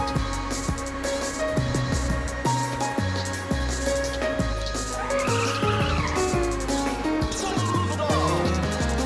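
A race car drifts through a turn in the video game Ridge Racer Type 4, its tires squealing and skidding over a revving engine, with the game's music playing loudly throughout.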